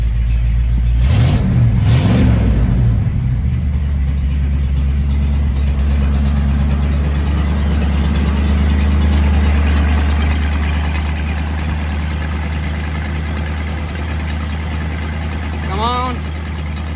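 An old 1980s Ford F-150 engine idles steadily and fairly loud throughout, with a low continuous rumble, a brief louder burst near the start and a small chirp near the end.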